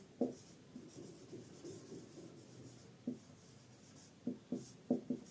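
Chalk or marker writing a definition on a classroom board, short scratchy strokes in irregular bursts with quiet gaps between, clearer clusters of strokes toward the end.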